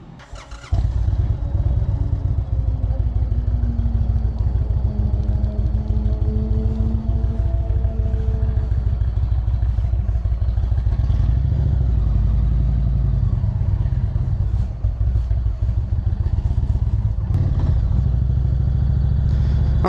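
Motorcycle with a Mean City Cycles double memory foam seat cruising a main road, its engine droning loud and steady with rising and falling revs and constant wind and road rumble throughout.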